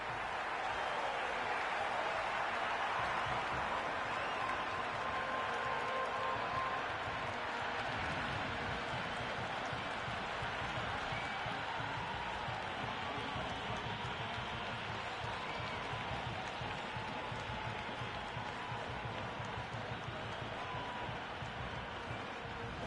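A stadium crowd in the cricket video game Cricket 26 keeps up a dense, steady roar of applause and cheering, broad and unbroken throughout, with faint commentary underneath.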